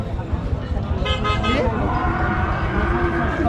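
Cattle low at a busy Rajshahi livestock market, a drawn-out moo rising midway over steady crowd chatter, nearby voices and occasional vehicle horns.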